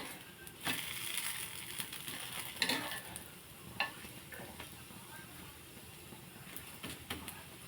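A plain dosa cooks on a hot pan with a soft, steady sizzle, broken by scattered clicks and scraping taps of a utensil against the pan.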